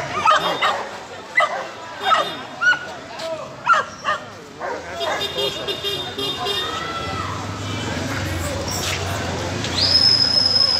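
Puppies, including 40-day-old German shepherd pups, yip and bark repeatedly at a busy Friday dog market, with sharp close yelps over crowd chatter and people talking throughout.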